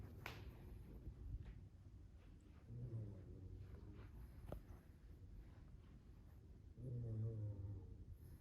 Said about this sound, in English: He's snoring so loud.